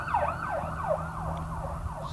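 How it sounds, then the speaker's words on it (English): An ambulance siren passes on a road, its repeated wailing sweeps rising and falling steadily over a low traffic rumble, moderately loud and continuous throughout. "there goes an ambulance"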